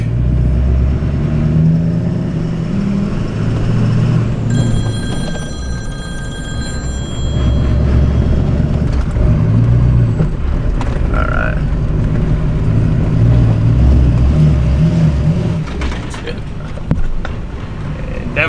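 A compound-turbo, solid-axle-swapped Duramax diesel truck pulls hard and shifts gears, a loud steady engine drone with a brief whine and tonal chirps partway through, and people talking over it inside the cab.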